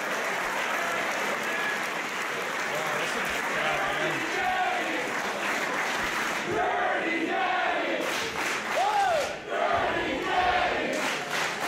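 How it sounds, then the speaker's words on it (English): A packed independent wrestling crowd chants and cheers throughout a match, a loud, continuous roar of voices with rhythmic shouting swelling near the end. "Dirty daddy chants all throughout this place."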